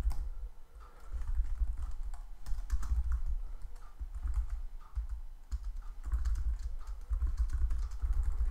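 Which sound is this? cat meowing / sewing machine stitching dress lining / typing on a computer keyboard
typing on a computer keyboard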